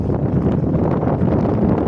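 Strong wind buffets the microphone in a constant low roar, gusting unevenly throughout with no voices.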